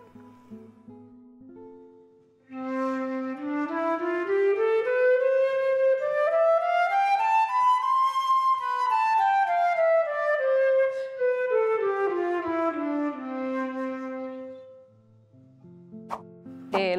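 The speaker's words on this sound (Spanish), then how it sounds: "La flauta tiene 3 octavas de registro y suena así." A transverse flute plays a smooth scale climbing steadily through its three-octave range to a high peak, then descending back down, clear and solo, with quiet moments before and after.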